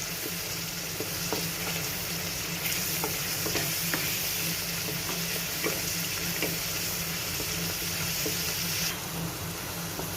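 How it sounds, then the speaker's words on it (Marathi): Chole masala roasts in oil for a masala chole dish, a close, even sizzle with faint spoon stirs ticking through it from start to finish. "मसाला तेल सुटोपर्यंत भाजून घ्यायचा."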